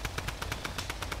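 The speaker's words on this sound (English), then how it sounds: "I'm getting shot right on my head." Rapid automatic gunfire in the Fortnite video game, about a dozen evenly spaced shots in a quick burst, moderately loud with no talking.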